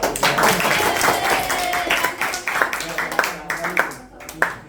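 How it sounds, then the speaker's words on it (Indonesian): Clapping from an audience at a school green chemistry class presentation, a burst of scattered hand claps running throughout with voices talking over it. "Ya, tepuk tangan dulu."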